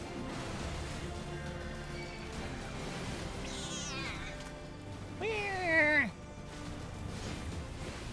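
Cats in the Final Fantasy XIV video game meow a couple of times, the second call louder and more drawn out, heard over a steady game soundtrack while a player talks.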